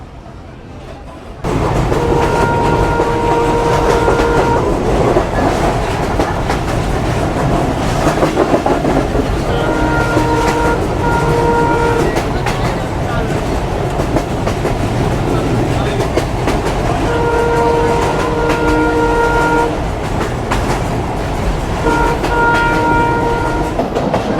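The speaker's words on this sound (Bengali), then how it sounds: "আবারও ট্রেন ছেড়ে দেব মোংলা রেলওয়ে স্টেশনের উদ্দেশ্যে" The Mongla Commuter passenger train rolls between Benapole and Khulna with a constant loud rumble of wheels on rails. Steady tonal horn or whistle blasts sound in several separate bursts along the way.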